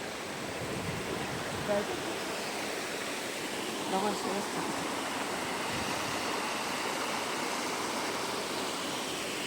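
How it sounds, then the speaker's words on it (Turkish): A waterfall roars at a picnic spot, a steady, dense rushing wash that fills the whole stretch, with a few quiet spoken words briefly surfacing under the constant flow. "Şelaleler çağla yapıyor."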